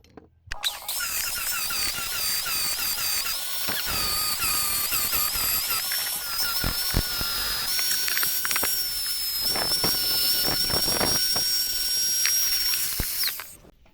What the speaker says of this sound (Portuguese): Bom, dei uma lixada aqui